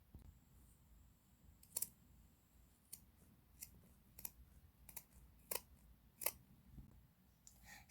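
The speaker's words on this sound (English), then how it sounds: "Now you can cut this bit off, flip it inside out, and I think you pretty much got a skirt." Small scissors snip through a sock to make a Barbie doll skirt, about a dozen sharp, close, quiet clicks spaced irregularly over a low background hiss.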